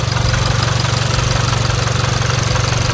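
A VW Mk7 GTI with a misfire after running on E85 fuel idles close by, its exhaust pulsing in a fast, slightly uneven rhythmic thrum that stays loud and steady throughout.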